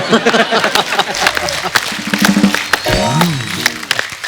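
Studio audience applause on a comedy talk show, brisk clapping mixed with voices talking and a bit of background music, fairly loud and close for a few seconds.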